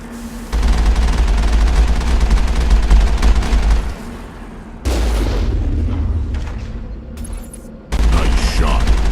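Gunfire in a shooter video game, loud, dense bursts of shots and booming impacts coming in several blocks separated by short lulls.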